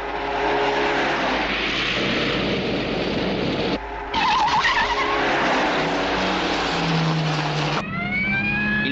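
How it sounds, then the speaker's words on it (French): A police car in a high-speed chase after a red convertible, a loud, dense roar of engine and tire noise with squealing and skidding, briefly breaking off midway before surging again, with no talking. "Nous poursuivons une décapotable rouge qui roule à grande vitesse vers le centre."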